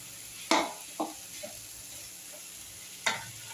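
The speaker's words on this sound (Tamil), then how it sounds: "பாருங்கள் நான் வந்து நல்லா வதங்க விட்டுருக்கேன்." Ingredients for coconut milk paaya sauté in a pan with a soft sizzle, broken by a few sharp spoon scrapes and stirs against the metal, close and fairly quiet.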